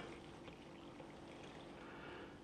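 Water poured steadily into a bowl of flour for bread or dough making, a soft continuous splashing pour with no talk over it.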